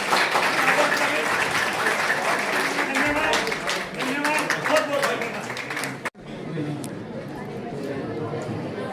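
Applause from an audience at a national awards ceremony in Roorkee, Haridwar: loud, busy clapping with crowd chatter for about six seconds, then an abrupt cut to quieter, thinner clapping and murmuring.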